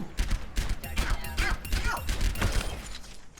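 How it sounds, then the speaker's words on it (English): Soldier 76's pulse rifle fires in the Overwatch video game, giving a run of quick, sharp close-range shots in irregular bursts with some mechanical clatter between them. "Shooting right. Shooting left. Just one bullet at a time."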